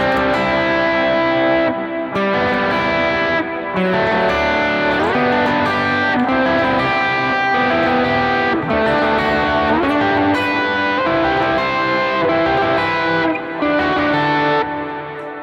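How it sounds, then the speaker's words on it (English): Electric guitar strumming triad chords through a dirty, distorted tone in a 1-4-6-5 worship-style progression, a dense, crunchy, sustained sound with rhythmic chord changes, loud and close with no talking. "If I use a dirty sound with those triads, it's going to kind of sound like this."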